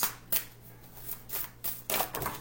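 Playing cards being shuffled by hand, several crisp riffling bursts close up in a quiet room, with no talking.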